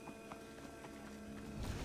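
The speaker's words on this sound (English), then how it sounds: "I'll just take this horse" Rapid rhythmic hoofbeats of a horse galloping in the video game Assassin's Creed Odyssey, evenly paced clip-clop thuds at close range over a faint steady game background, growing slightly louder at the end.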